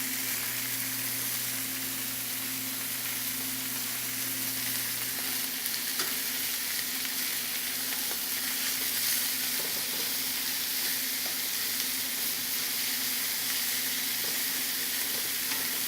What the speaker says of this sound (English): You want to give it a nice sear so you get that roast flavor on there